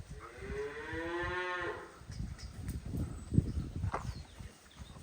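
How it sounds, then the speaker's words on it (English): A cow lets out one long, loud moo with a rising-then-falling pitch, followed by shuffling, snuffling and rustling close by from cattle being fed bales. "Whilst I'm being licked by another cow."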